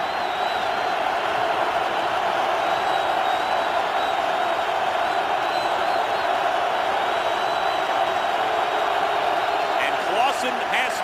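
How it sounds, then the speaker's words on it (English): A football stadium crowd at a Carolina Panthers at Seattle Seahawks game roaring loudly and steadily, a broad sustained wall of cheering with a few sharp bursts near the end. "3rd and 8 as the crowd starts to get into it"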